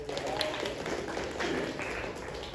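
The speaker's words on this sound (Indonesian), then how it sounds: "Tepuk tangan untuk kamu semua" A school class applauds its students during a lesson. The clapping is a steady, dense wash of sound that holds at a moderate level for the whole stretch.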